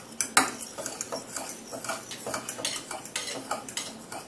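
A three-year-old child whisking a mixture with a fork in a bowl, a rapid, uneven run of close metallic clicks and scrapes with one sharp clink at the start.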